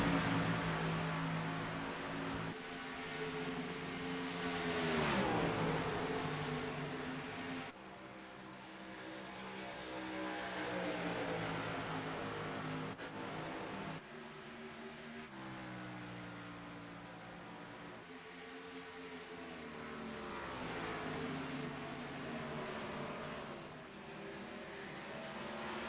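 NORA B Series race cars battling for position at Charlotte, engines droning and rising and falling in pitch as cars pass in succession, with a continuous layered roar and no talk.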